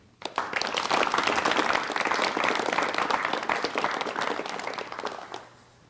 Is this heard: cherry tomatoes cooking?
no